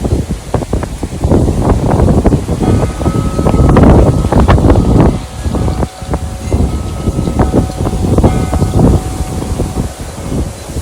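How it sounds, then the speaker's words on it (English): Strong wind gusts blow outdoors on a hot first day of summer, a continuous loud rushing roar that surges and eases with buffeting on the microphone and no voices. "and now the wind is gusting"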